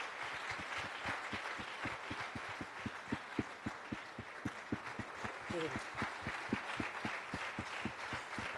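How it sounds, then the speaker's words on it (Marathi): At a Sunday church service in Pune, a congregation claps for a child in a steady rhythmic beat, each clap distinct and evenly spaced, with voices heard underneath. "आपण सर्वजण टाळ्या वाजवूया त्यासाठी."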